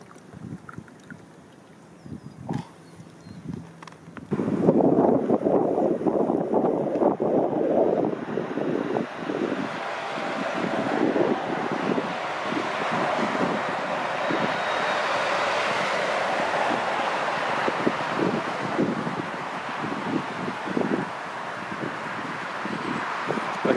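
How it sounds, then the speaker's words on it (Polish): Heavy wind buffeting a microphone during a long bicycle ride, loud rumbling gusts that swell and persist with irregular thumps, outdoors and continuous. "ten wiatr jest nie w tą stronę, w którą bym chciał, bo wieje mi w twarz"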